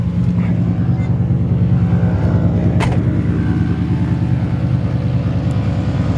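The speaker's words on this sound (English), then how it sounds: "you can hear those air compressors running" Air suspension compressors run as a steady low mechanical drone inside a 1963 Chevrolet Impala convertible, continuous and fairly loud throughout, with a brief sharp hiss in the middle.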